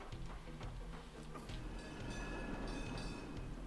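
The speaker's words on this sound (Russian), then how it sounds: "Что там за поезд прошелся?" A train passes in the video game Final Exam, a faint rhythmic rumble and clatter of wheels building slightly over a few seconds.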